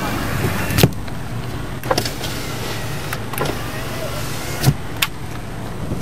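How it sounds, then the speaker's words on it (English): Power windows of a Mitsubishi Galant VR6 run with a steady electric motor hum inside the car, broken by several sharp clicks and thumps as the glass starts and stops. "The car has got power windows."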